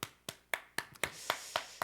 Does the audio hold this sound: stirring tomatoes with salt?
no